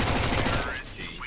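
MAC-10 submachine gun fire in CS:GO, a fast rattling burst of rapid shots up close that cuts off partway, leaving fainter game sounds and a voice in the background.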